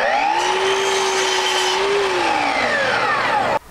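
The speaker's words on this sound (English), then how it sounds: "Now we have to make the mating miter. So I swing the saw in the opposite direction." A miter saw swung to the opposite angle cuts the mating miter for a Victorian door head: a loud, steady motor whine with a sustained tonal pitch that dips as the blade passes through the wood, then cuts off abruptly.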